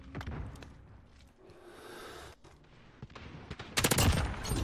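Bursts of gunfire in the shooter game Modern Warfare in Cranked mode, a dense fusillade at the start and a louder rattling volley near the end, with quieter game noise between and no talk over it.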